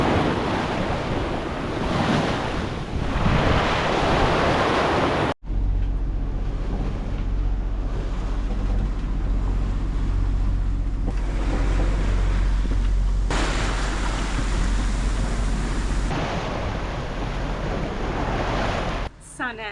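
A sailboat under sail at sea off New Zealand, making 5 to 6 knots at sunset: loud, continuous wind rush and wave wash against the hull with heavy microphone buffeting, the noise shifting as gusts and swells come and go.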